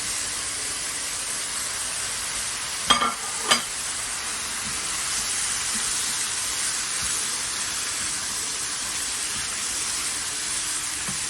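Green peppers fry in a pan with a steady, even sizzle and hiss, broken early by two sharp clacks of a utensil stirring them.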